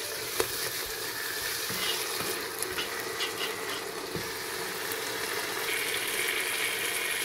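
Prawns frying with masala spices and turmeric in a pan, a steady close sizzle and crackle with occasional soft knocks of stirring, no voices.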